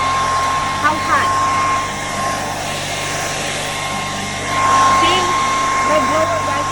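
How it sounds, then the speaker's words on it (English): A very hot air blower used to kill bed bugs gives a steady, loud whooshing roar close by, with a constant high whine and faint voices underneath. "My blower guys is very hot."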